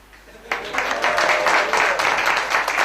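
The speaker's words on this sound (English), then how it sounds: "And now you can all give a big clap." An audience applauds at the end of a slideshow presentation. After a quiet start, clapping breaks out sharply and continues as a close, lively patter of many hands to the end.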